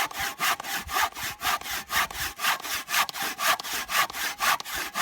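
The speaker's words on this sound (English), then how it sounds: "This is a little teeny saw, and that's good." A small hand saw with fine teeth cuts through wood in steady back-and-forth strokes, close and rhythmic, with about three strokes each second and no talking.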